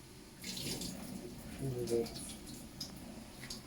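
Tap water runs as a can of ackee is rinsed under the faucet, a soft, close splashing and trickling that continues with small clinks, fairly faint, while a voice talks quietly.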